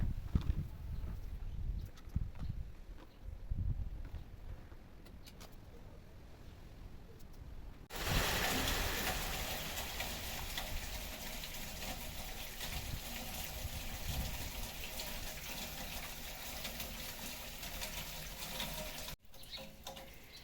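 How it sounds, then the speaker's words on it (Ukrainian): Light rain begins falling outdoors in a garden where petunias are being planted, a steady broadband patter that swells suddenly partway through and continues evenly, close and fairly loud, with no voices. "Ось тут вже починає хорошо накрапувати дощик вже п'ятий раз за день."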